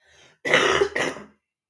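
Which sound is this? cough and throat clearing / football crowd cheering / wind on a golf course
cough and throat clearing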